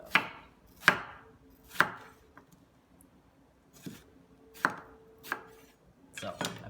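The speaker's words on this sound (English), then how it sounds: "I'm just taking the top off. I'm gonna chop it" Tomatillos and jalapenos chopped with a knife on a board, crisp separate thunks in an uneven rhythm with quiet gaps and a quick cluster at the end, close and clear, with one brief spoken word.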